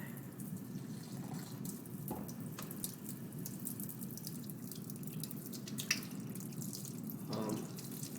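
A kitchen water tap runs in a steady, continuous stream while an egg is rinsed under it during an egg experiment, with faint splashing and small clinks over the constant flow.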